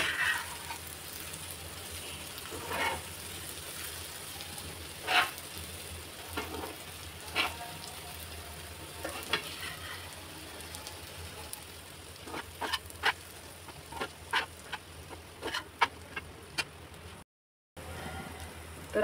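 Kurdai vegetable frying in a pan as it is stirred, a low steady sizzle with scattered scrapes and clicks of a spoon against the pan, fairly quiet and close, ending with a brief gap.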